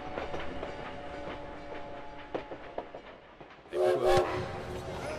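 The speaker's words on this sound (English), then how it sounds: "At the train depot in Paris" Train at a Paris depot in the World War One video game Valiant Hearts, carriages clattering with rhythmic clicks and a steady tonal hum, then a loud whistle-like blast near the end.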